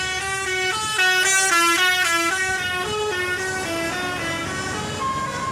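A passing bus in Palembang sounds a loud musical multi-tone horn, a long run of shifting melodic honks over engine rumble, close and continuous.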